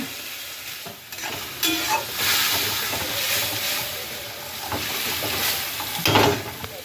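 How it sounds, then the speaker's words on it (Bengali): Banana flower curry with prawns and turmeric stirred in a hot pan, a steady close sizzle with scraping strokes of the spoon and occasional louder bursts, no voices. "এটাকে আমি একটু নাড়িয়ে সুন্দর করে কষাবো"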